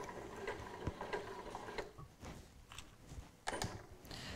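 A sewing machine stitching piping runs as a quiet, rapid mechanical whirr and tick. It eases off briefly, then resumes before halting with the needle down.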